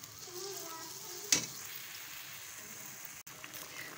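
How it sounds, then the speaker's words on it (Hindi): Beef sizzles in a pan with yogurt added for korma, a steady frying hiss with one sharp knock partway through. "अच्छी तरह इसको फ्राई कर लें, और इसमें 1 कप योगर्ट आप ऐड कर दें।"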